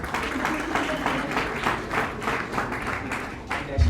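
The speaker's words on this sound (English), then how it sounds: "Let's give them another warm round of applause," An audience at an elite athlete press conference for the Two Oceans Marathon gives sustained, steady applause, with a dense wash of clapping and faint voices beneath.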